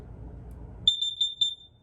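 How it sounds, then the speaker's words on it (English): A Firex gas and carbon monoxide alarm sounds four sharp, high-pitched beeps in quick succession after a brief stretch of low handling noise. "It gives you a little alarm."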